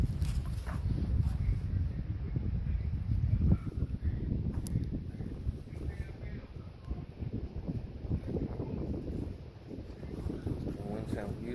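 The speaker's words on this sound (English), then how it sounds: "The wind sounds beautiful." Wind blows steadily outdoors at Saunders Springs, a continuous broadband rush and low rumble buffeting the microphone across the whole stretch, with a brief stronger gust near the middle.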